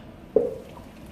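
A blended paste of ginger, garlic and onion is poured over meat, giving a single short, wet squelch and splat, fairly close, then a quiet tail.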